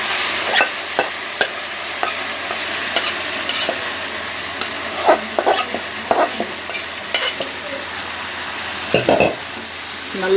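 Country chicken sautéing in sesame oil in a cooker, with a steady sizzle and intermittent scraping and stirring clatters from a spoon, close and clear.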